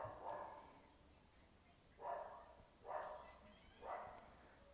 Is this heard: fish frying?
no